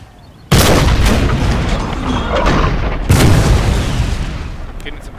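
Artillery fire in the Napoleon: Total War video game: two loud booming cannon volleys, one near the start and another about three seconds later, each leaving a long rumbling decay behind it.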